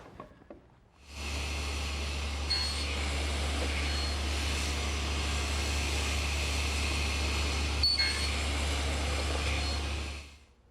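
Table saw cutting a shoulder cut along the top and bottom edges of a board for a harvest table tenon: a loud, steady motor roar starts abruptly, holds for about nine seconds with brief blade-contact changes, then winds down.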